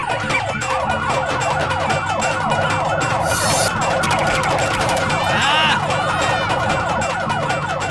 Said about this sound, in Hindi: इसे चोरी का सायरन कहते हैं।